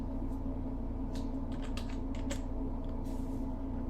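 Fingers type a short search term on a computer keyboard in the AWS console, a quick cluster of close clicky keystrokes over a steady fan-like hum, with no talking.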